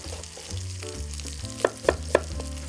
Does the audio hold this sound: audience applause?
no